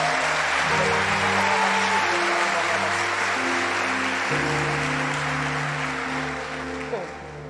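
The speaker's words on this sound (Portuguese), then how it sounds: "você pode aplaudir o Senhor" A church congregation applauds steadily as a dense wash of clapping, with sustained music tones beneath it, fading slightly near the end.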